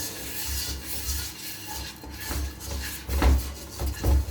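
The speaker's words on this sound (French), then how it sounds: "Bien mélanger." A food mixture is kneaded by hand in a bowl while a meal is prepared. Close, continuous squishing and rubbing rises and falls in uneven strokes, with a few heavier pushes toward the end.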